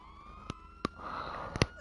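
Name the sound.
police car sirens in video game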